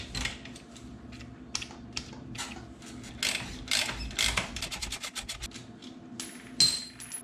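A ratchet works a bolt on a Kawasaki KX250X frame guard, with quick bursts of close metallic clicking and pauses between strokes, no voices.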